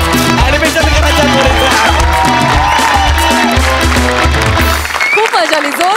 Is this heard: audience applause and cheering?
yes